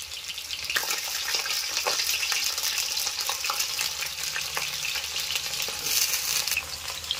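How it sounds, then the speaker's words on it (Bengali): Potatoes frying in hot oil in a wok, giving a steady dense sizzle with crackling pops throughout, close up and alone. "আমি আলুগুলো ভেজে নেব।"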